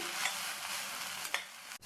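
Soft sizzling as mint and coriander leaves fry in a pan for chutney, with a couple of spatula stirs, fairly quiet and close.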